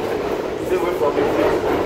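Steady broadband rumble and rushing noise inside a moving train car, continuous and fairly loud, with voices faintly mixed in.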